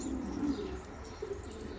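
Yellow Abraj pigeons coo softly in a low, throaty murmur, a few faint rolling calls close by with quiet surroundings and no voices.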